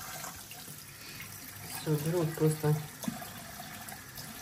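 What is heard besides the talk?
hot tap water soaking a stain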